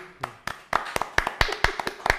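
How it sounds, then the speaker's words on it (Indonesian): Scattered handclaps at a village dialogue session in Kedonganan, a dozen or so distinct, fairly close slaps in an uneven rhythm from a small group rather than a full crowd. "Tepuk tangan dulu."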